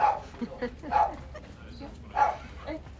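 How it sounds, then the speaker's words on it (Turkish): A dog barks near a temple in Ubud, Bali, giving a few spaced yips and barks at moderate distance, with people talking nearby. "Her tapınakta bir köpek var neredeyse."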